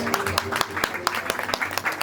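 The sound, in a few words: audience clapping at a horse show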